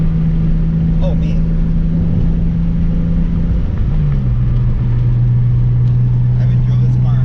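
A tuned BMW car engine idles with a steady low drone and a slight flutter, close and loud throughout, its pitch dipping a little partway through.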